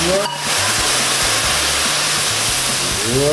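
A cup of dry rice is poured into a pot while making carreteiro: a dense, even rush of grains hisses steadily for the whole stretch, loud and close.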